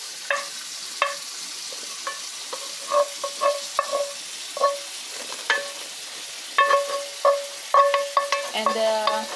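Mushrooms being stirred into bechamel sauce in a pan, with soft sizzling and a string of light scraping and clinking stir strokes, closer and busier toward the end.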